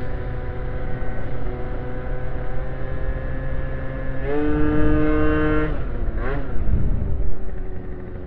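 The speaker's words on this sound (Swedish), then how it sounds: "Så jag kan få motorn lite varm här." A motorcycle engine idles close by with a steady rumble, rising briefly in a couple of throttle blips before settling back.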